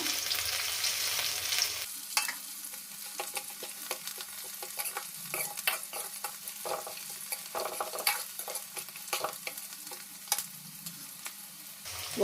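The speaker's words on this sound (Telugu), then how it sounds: "ధనియాలు వేసి వేసుకున్నాను" Coriander seeds being dry-roasted and stirred in a pan for a lentil rasam, giving a steady crackling sizzle with repeated scraping strokes of a spoon, close and continuous with no talk.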